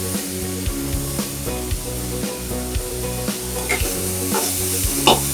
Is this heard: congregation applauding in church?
no